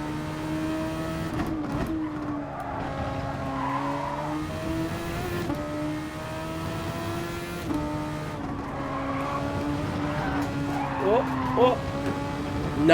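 Race car engines in a Gran Turismo community race on a tyre-punishing track, droning and shifting pitch continuously through the corners, with tyre squeal near the end, under steady commentary talk.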